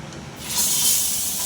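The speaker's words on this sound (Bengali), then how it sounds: "দিয়ে দিচ্ছি আমি মাছগুলো কড়াইতে। এই মাছগুলো একটু ফাটে" Aar fish frying in hot oil in a wok gives a steady, loud sizzle and hiss that swells after the first moment and stays constant, with no voices over it.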